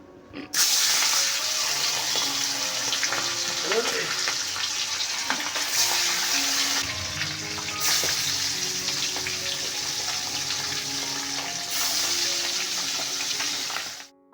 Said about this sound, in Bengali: ওদিকে মাছগুলো ভাজতে বসালাম